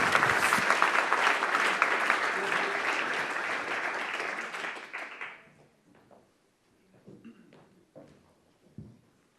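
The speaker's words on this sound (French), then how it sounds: "je crois qu'on peut l'applaudir." An audience at an annual plenary meeting applauds a speaker, a loud sustained burst of clapping that fades out after about five seconds, leaving scattered faint taps and rustles.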